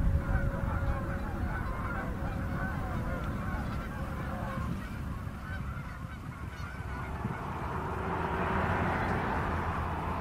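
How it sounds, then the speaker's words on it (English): Wild geese honking near a busy highway, Deerfoot Trail in Calgary, a steady chorus of calls over constant traffic rumble, louder toward the end. "That's what these geese are doing along Deerfoot Trail."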